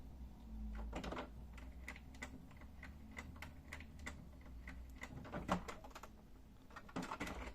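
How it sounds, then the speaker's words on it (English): An HP Smart Tank 519 printer running a printhead cleaning cycle makes a faint series of irregular mechanical clicks and ticks over a low, steady hum. "Now the printhead cleaning has been performed."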